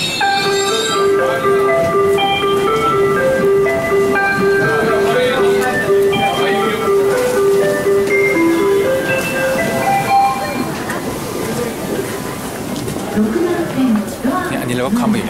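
The inside of a moving train in Tokyo rumbles steadily while a short melodic chime plays and a voice speaks over the ride noise.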